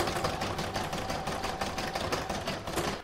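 Embroidery sewing machine stitching decorative gold thread along patchwork joins of a crazy patch stocking, a steady close whir with rapid needle pulses running without pause.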